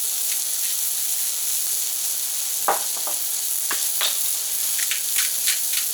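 Smash burgers sizzling on a Camp Chef FTG600 flat top grill outdoors in -23F cold, a steady close hiss with occasional brief scraping and spatula taps, moderately loud and without talking.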